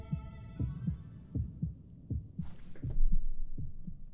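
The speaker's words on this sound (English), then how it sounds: "I hear a heartbeat." A slow, muffled heartbeat thumps in a steady double-beat rhythm in the video game Swallow The Sea, close and low over a faint background hum.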